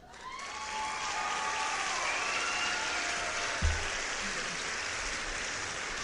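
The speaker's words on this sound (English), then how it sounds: "Yeah, Daryl, the crowd does go wild." A live podcast audience at a comedy live-read breaks into sustained applause, a dense wash of clapping that swells and holds for several seconds, with a single low thump partway through and no speech.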